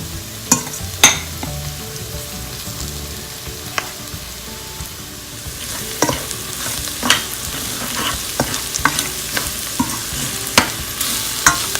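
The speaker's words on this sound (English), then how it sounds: "You want to stir constantly because you don't want your anything to stick to the bottom of the pot or to burn." A spoon stirs salmon madras curry in a pot over the heat, with scraping clinks and knocks against the pot over a soft background sizzle.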